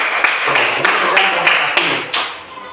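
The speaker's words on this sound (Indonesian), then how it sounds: "Sekali lagi tepuk tangan untuk kelompok 1." A class audience claps for a student group, sharp loud claps landing in a steady rhythmic beat, close and continuous before easing off at the end.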